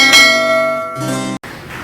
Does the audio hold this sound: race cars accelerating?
no